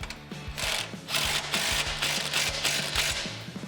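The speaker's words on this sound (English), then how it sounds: "we're going to tighten our factory bolt with an 18mm wrench and socket" An 18mm wrench and socket ratchet in quick, regular clicks while tightening a factory bolt on a 2018 Jeep Wrangler JL during a suspension lift install, close and continuous with no talking.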